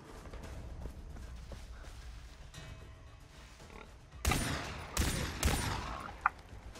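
Gunfire in Far Cry 3 brings down a wild boar: three loud, sharp shots in quick succession burst out over a low, rumbling outdoor game ambience, followed by a small thud.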